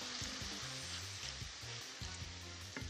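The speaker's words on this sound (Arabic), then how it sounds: "وبجيب بقى شويه من فواكه البحر اللي عندي، وبطعمهم مع البصل والثوم كده يغير لونهم على طول" Seafood sizzles and fries with onion and garlic in a hot pan for pasta, a steady close crackle with occasional stirring and no talk.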